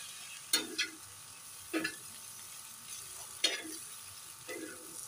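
Garam masala and chunks of tomato being mixed into a fish katakat in a pan, several separate bursts of stirring and scraping over a quiet low sizzle, with no voices.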